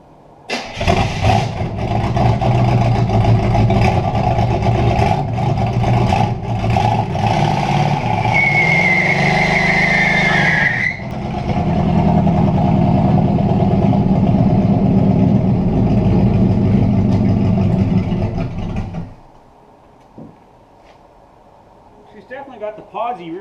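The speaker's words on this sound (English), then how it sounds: "Let's say we see if she does a burnout." Engine of a 1968 Buick Skylark held at high revs in a loud sustained burnout for about nineteen seconds, with a rising whine partway through, then cut back to a quiet idle.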